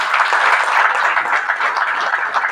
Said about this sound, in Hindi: उनके लिए तो जोरदार तालियां बजनी चाहिए